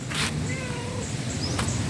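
A small cat at Wat Chan Sen, an old Thai temple and museum, gives a soft, drawn-out meow amid a steady outdoor hum and brief bursts of noise.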